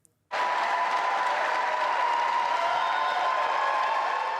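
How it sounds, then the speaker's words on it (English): Friends and colleagues at the Canadian Space Agency welcome astronaut David Saint-Jacques back with a sudden burst of loud, sustained applause from a crowd, dense and steady from start to finish. "He was greeted with applause and cheers."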